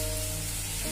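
Onions and tomatoes sauté in a pan for mutton kuzhambu, giving a steady close frying hiss over a constant low electrical hum, with no voices.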